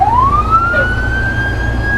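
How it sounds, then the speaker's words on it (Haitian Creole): Fire truck siren wailing steadily and rising in pitch, loud and close, sounding continuously over a low engine rumble, with no talking. "on a mis les sirènes dehors là"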